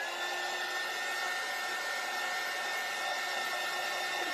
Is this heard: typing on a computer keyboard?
no